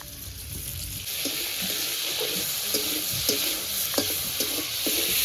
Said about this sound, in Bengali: চুলোর উপর কড়াইটা বসিয়ে দিলাম অল্প একটু তেল দিয়ে দেবো এবার চিংড়ি মাছগুলো ভেজে নেব